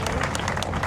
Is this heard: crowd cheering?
yes